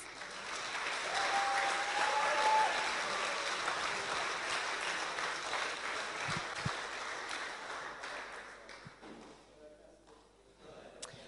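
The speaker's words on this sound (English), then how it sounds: "Okay, give them applause, please." Sustained audience applause at a startup competition's final pitch event in Bratislava, honoring the jury members, loud at first and gradually thinning out, ending with a few scattered claps and faint room noise.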